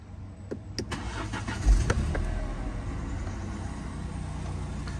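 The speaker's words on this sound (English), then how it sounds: "Now while done it, then I'm going to start the car." A 2019 BMW 1 Series M Sport starts up with a brief starter crank and a low thump as the engine catches, then settles into a steady, close idle hum, with a few clicks beforehand and no speech.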